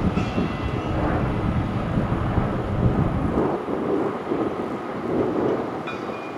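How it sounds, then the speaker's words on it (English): A train rumbles loudly and continuously into the platform at Custom House station, a heavy low roar and rattle of rail wagons that eases slightly toward the end, with no voices. "The train approaching platform A is the service to Abbey Wood."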